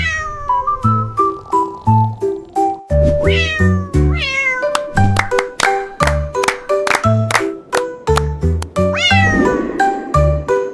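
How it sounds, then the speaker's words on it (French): A rapid string of loud cat meows rises and falls in pitch, rhythmic and tuneful, like a melody sung in meows. "le chat miaula doucement"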